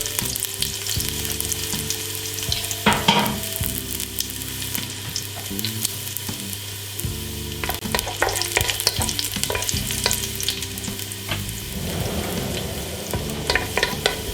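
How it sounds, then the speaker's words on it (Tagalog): Garlic sautéing in a hot pan as the base for chicken adobo with coconut milk, a steady loud sizzle and crackle with occasional stirring scrapes, no voices. "bawang muna yung aking ginigisa"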